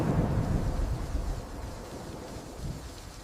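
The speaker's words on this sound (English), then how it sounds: "Strong winds and heavy rain crash against the wooden walls." A forest thunderstorm roars with heavy rain and strong wind against wooden walls, a dense, steady low rumble that swells at the start and eases slightly, with no voices.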